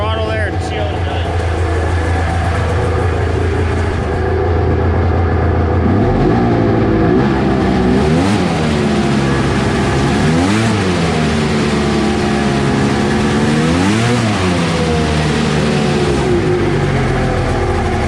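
A 1993 Kawasaki Thundercat 900 personal watercraft engine, recently given new parts, is revved repeatedly on the throttle, loud and close, rising and falling in several sweeping surges over a steady idle, with someone talking briefly.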